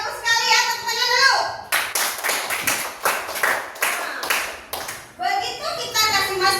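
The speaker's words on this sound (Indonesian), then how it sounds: "Tepuk tangan dulu." Children clap their hands together in a classroom, a burst of brisk, close clapping that starts and stops in short rounds, with kids' voices and an adult speaking before and after.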